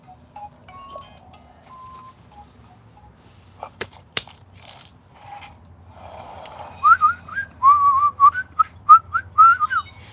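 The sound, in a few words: person whistling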